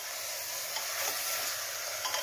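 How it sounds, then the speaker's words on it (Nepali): Spiced chicken being stirred in a pressure cooker for Nepali-style curry: a soft continuous sizzle with quiet scraping of the spoon against the pot and a couple of small knocks, fairly faint and without talk. "यसलाई म मजाले चलाउँछु एकपल्ट मसला मासु मजाले"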